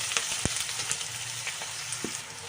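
Green chillies, garlic cloves and ginger lightly frying in white oil, a soft steady sizzle with scattered crackles and a few clinks of the spoon against the pan, close by and without talk.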